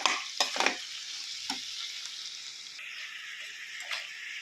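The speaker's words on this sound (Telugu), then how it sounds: "ఈ కర్రీలో ఏంటంటే పొట్లకాయ బాగా ఆయిల్లో ఫ్రై కావడమే ఇంపార్టెంట్ అండి" Snake gourd pieces are stirred and fried in hot oil, with a steady soft sizzle and a few sharp scraping stir strokes near the start.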